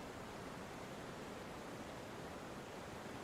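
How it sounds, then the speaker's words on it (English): Constant, even white-noise-like roar of a powerful mountain waterfall and river, dense and unbroken throughout, fairly soft in level with no voices. "we're going to turn on calming, powerful mountain waterfall and river 10 hours. White noise."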